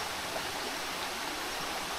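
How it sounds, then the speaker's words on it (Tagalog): A stream runs downhill from higher ground over rocks, a steady, even rush of flowing water heard close, with no voices. "Dito may tubig daloy guys oh. Galing sa taas."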